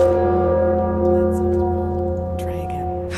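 A large bell in the video game Enderal, struck with the Bell Hammer, rings out with a sustained, rich metallic tone that slowly fades, with faint clicks near the end.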